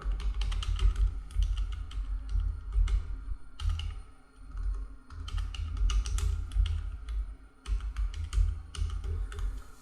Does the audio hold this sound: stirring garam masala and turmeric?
no